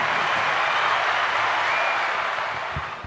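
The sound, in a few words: audience applauding and cheering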